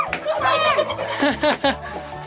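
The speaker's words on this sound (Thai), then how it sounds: "ชิคเก้น เห็นไหมลูก เต็มเลยไก่" Chickens cluck and squawk at Cocoon Farm in Chiang Mai, clustered calls rising and falling close by, mixed with voices.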